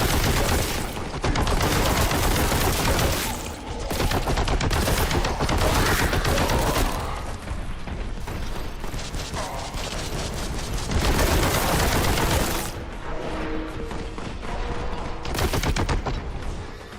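Heavy bolter fire in Warhammer 40,000: Boltgun, a loud, relentless stream of booming gunfire that roars almost continuously in long bursts with only brief breaks, close and dominating with no talk over it.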